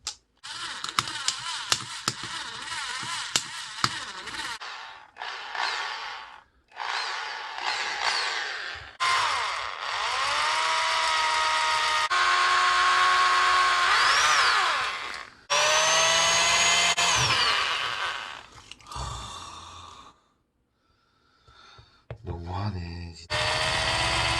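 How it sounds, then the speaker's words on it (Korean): A power drill grinds out screws from a LINE Clova Brown bear AI speaker. Loud, close bursts of motor whine rise and fall in pitch, mixed with rattling clicks, over about twenty seconds with brief pauses. "드릴로 나사를 아작내서 뽑아내겠습니다"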